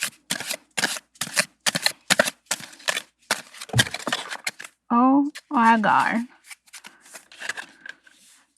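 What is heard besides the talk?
shuffling affirmation cards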